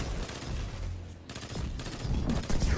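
Gunfire from the Destiny 2 video game, fired as warning shots: several sharp, close bursts of shots with a rapid, uneven rhythm that stands alone over steady game ambience.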